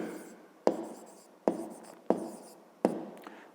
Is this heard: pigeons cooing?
no